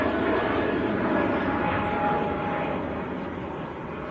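Heavy jet departing Manchester Airport, a dense, moderately loud engine rumble with a faint whine, steady for a few seconds before slowly tapering off.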